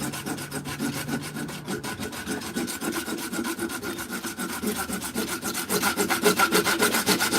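Hand saw cutting through PVC pipe, close and steady rhythmic rasping strokes in quick back-and-forth succession, growing slightly louder toward the end, with no talking.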